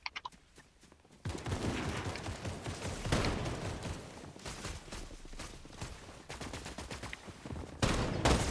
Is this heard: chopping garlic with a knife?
no